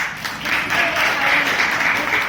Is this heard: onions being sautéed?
no